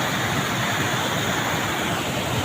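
Water rushing steadily beside a rural road near a turmeric field, a continuous broad wash of flow that stays close and even throughout, with no voices.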